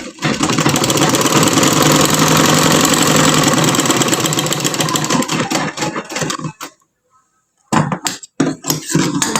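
A sewing machine stitching fabric runs in a loud, fast, steady whir for about six seconds, stops briefly into silence, then gives a few short bursts.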